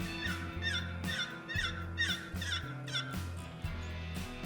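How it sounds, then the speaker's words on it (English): A wild turkey gobbles in Oregon timber, about five rapid rattling bursts in quick succession, close and clear over a steady low droning bed. "the call of the turkey attracts not only a potential mate"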